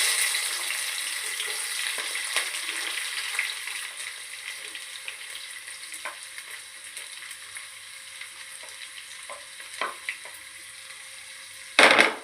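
Onions and green chilies sizzle steadily in hot oil in a pan, a continuous close frying hiss with a few small clinks and scrapes, ending in a louder sharp clatter.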